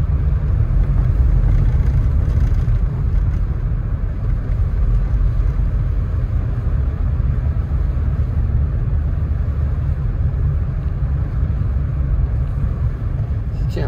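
A car drives up a snowy mountain road in Big Bear after heavy overnight snow, a loud steady engine and road rumble filling the cabin throughout with no one talking.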